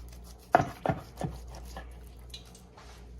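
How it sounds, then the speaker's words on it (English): Knife chopping through tender fried baby back rib bones on a cutting board, three sharp distinct cuts in the first second followed by softer scraping, close and quiet, no talk. "I'll probably cut 2 bones."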